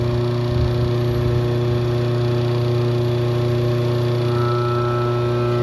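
A rewound electric motor hums steadily with a constant low tonal drone and faint vibration, running evenly without speeding up or stopping.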